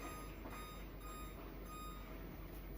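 Repeated kitchen timer beeps sound steadily while dog treats bake in an oven, a thin electronic tone over a low constant hum with no talking.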